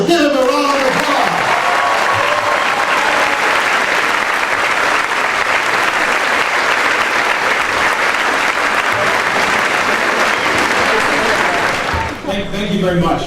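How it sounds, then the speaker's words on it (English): A large crowd at a university general assembly applauds steadily and loudly for over ten seconds as the city mayor is introduced, ending abruptly as a speaker begins to talk. "Give him a round of applause."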